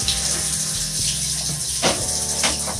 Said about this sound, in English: I'm just gonna rinse it off with water.